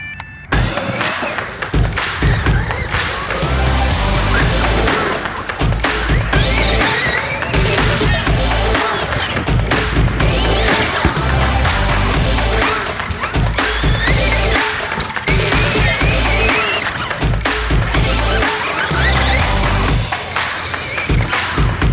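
An RC car with a QuickRun WP8BL150 G2 ESC and motor drives continuously, giving a loud sustained electric whine with rising and falling revs and buzzing bursts throughout.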